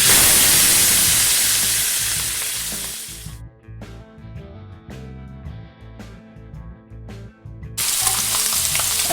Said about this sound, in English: Right when you put some oil in there, right at where it starts to kind of smoke, is a good time to throw them in.